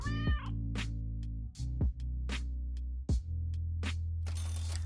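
Several short cartoon cat meows from the video game Super Auto Pets, repeated at irregular intervals over a steady low game music bed, with brief clicky interface sounds near the end.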